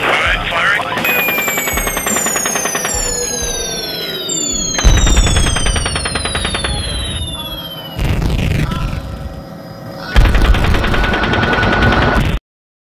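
Rapid bursts of machine gun fire in a loud firefight, with sustained automatic shots punctuated by louder booms and distant explosions, while a voice talks over radio-style chatter.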